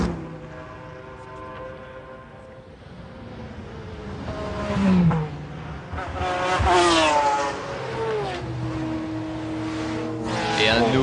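Race cars at Le Mans in 1996, including the Schnitzer team McLaren, roar past with rising and falling engine pitch, while a commentator talks over the racing throughout.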